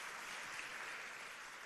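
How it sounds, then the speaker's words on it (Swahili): A church congregation at ACK Emmanuel Parish applauds its leaders, producing a steady, dense wash of clapping with no pauses. "Tuwapigie makofi wa viongozi wetu."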